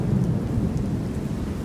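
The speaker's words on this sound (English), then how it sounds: "That was cloud to ground off the coast." Low rumbling thunder from a cloud-to-ground lightning strike off the coast during a severe storm in Miami, a continuous deep roll with steady rain hiss underneath, with no talking.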